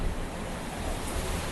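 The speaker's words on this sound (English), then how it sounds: "waves from 2 directions" Ocean waves from two directions pound a racing sailboat at sea during the Vendée Globe, a loud, continuous roar of rushing water and wind noise with no voices.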